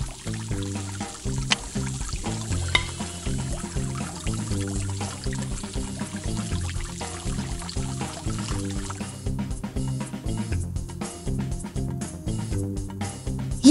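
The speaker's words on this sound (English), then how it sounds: "how will you get the water into the bowl?" Water pouring into a dog's bowl in a children's science game, a continuous trickling liquid sound mixed with bright plucked background music and occasional splashes.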